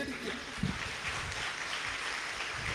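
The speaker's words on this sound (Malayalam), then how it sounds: "നിങ്ങൾ നല്ല തീക്ഷ്ണമായിട്ടിരുന്ന് കൈയടിച്ചതിനെ ഓർത്ത് ഞാൻ ദൈവത്തിന് നന്ദി പറയുകയാണ്" A church congregation clapping during a sermon, a soft, diffuse patter of hands spread across the room, fairly quiet and continuous for a few seconds.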